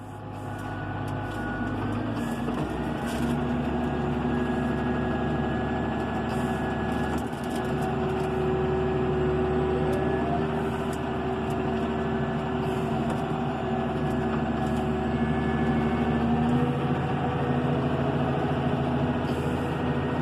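A 2012 Claas Arion 640 CIS tractor engine runs steadily while driving in reverse and changing direction, a continuous loud drone with a steady low hum and faint whine throughout.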